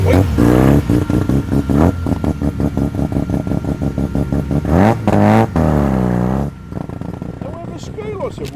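A Mazda RX-7 arriving at a Sydney car show revs up close in a rapid string of sharp, throaty bursts, then drops back to a quieter idle near the end.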